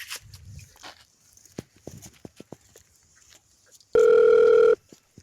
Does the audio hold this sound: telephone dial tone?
yes